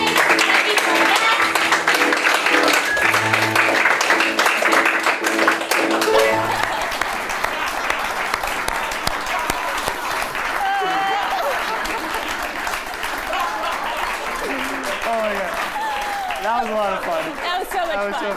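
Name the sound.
audience applause and clapping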